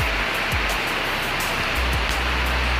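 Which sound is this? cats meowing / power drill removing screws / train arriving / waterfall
waterfall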